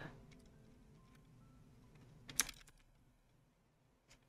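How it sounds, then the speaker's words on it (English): Quiet, sparse keystrokes on a computer keyboard during a session of the game Legends of Venari, a few soft ticks followed by one sharper burst of clicks midway and a faint tap near the end. "I can type it in."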